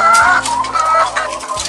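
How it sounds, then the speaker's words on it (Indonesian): Chickens in a laying hen coop cluck loudly and continuously, several birds overlapping close by with no talk. "Kesehatan ayam gimana Pak Agil?"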